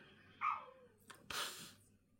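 A dog barks to be let in, two or three short barks heard faintly from outside amid a quiet indoor setting, separated by brief pauses.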